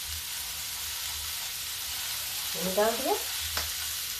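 Ridge gourd fries in a pan with a steady, even sizzle throughout, while someone speaks briefly in Hindi over the hiss.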